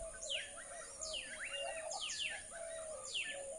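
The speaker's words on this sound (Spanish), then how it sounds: "Por ahí está un pajarito, ahí está una paloma." Birds chirp in repeated bright, quick calls outdoors near a jobo tree, with short sweeping tweets every half second or so over faint background hiss, no talk.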